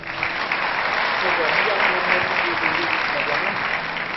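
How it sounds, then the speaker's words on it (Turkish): Audience applause at a Baku–Ankara concert, a dense, steady wash of many hands clapping that holds evenly throughout, with a faint voice underneath. "İLESAM'ı da alkışlıyoruz"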